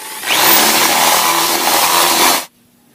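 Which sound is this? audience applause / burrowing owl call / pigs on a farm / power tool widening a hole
power tool widening a hole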